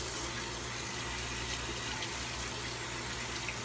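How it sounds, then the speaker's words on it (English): Water running steadily from a tap while a shaving brush is rinsed, a constant even gush at moderate level with no breaks. "Rinse off the brush"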